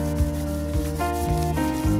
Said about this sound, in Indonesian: Amplas ini menggunakan tangan, bisa ataupun dialasi menggunakan